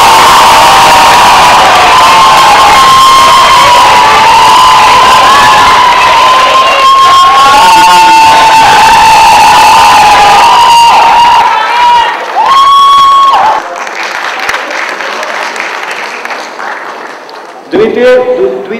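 Audience at a Hindi Pakhwada 2013 staged play event at IIMC erupts in loud applause with cheering, whoops and shouts, a dense sustained roar that eases toward the end, with voices calling out over it.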